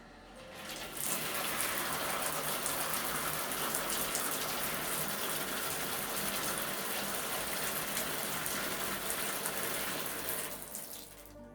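Running water rinses shampoo out of hair during a Sunday wellness routine, a continuous close splashing flow that starts after a second and fades near the end, with no talk.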